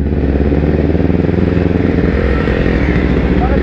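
A smoky motorcycle engine revs close by with a steady throbbing rumble that rises slightly, loud and continuous throughout.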